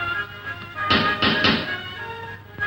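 Three quick, solid knocks land on a house door in an old film scene, close and fairly loud over a faint background hum, with no talking.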